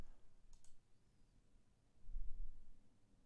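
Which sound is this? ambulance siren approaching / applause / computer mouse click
computer mouse click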